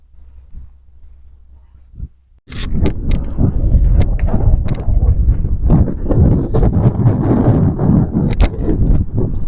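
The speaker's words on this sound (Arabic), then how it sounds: "الهوا شديد جدا، بيلعب بالكاميرا" Strong wind buffets the camera microphone outdoors at a gemstone-hunting site, a low roaring rumble that bursts in suddenly after a quiet start and stays loud and gusty throughout, with no one speaking.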